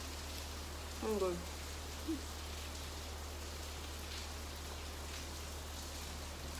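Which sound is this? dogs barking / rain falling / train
rain falling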